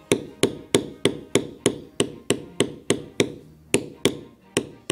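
Steady series of sharp mallet strikes on a beveling tool tooling a leather basket-stamped border, about sixteen evenly spaced close knocks with quick decay, no talking.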